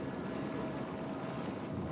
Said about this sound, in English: You can clearly hear the helicopter blades from that helicopter shot.